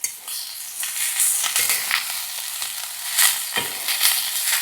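Drumstick pieces being stirred in a pan with onion-tomato masala, giving repeated close scraping and rustling strokes over a soft sizzle, with no voices.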